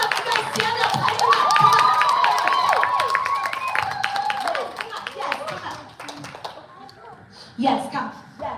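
At a live charity dance event, an audience claps and cheers over music with sustained melodic tones, and children shout now and then. The crowd noise is moderately loud, then thins toward the end into scattered claps and voices.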